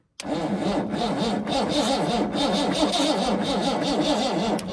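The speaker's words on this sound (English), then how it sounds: "It's gonna start. She's gonna run." A Dodge W600 Power Wagon engine cranks and catches, then settles into a loud, steady, lumpy running rhythm close by, with no talking over it.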